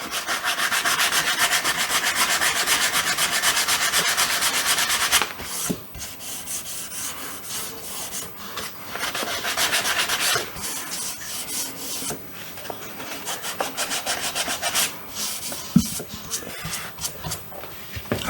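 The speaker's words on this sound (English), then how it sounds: "I'm going to keep sanding this down" Wood window trim being sanded by hand, a steady rasping scrape that runs loud and continuous at first, then continues in shorter, uneven strokes with brief pauses, close up and without talk.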